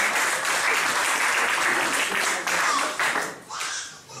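Church congregation applauding to acclaim the Lord, a dense, steady burst of clapping with some voices mixed in, fading slightly toward the end.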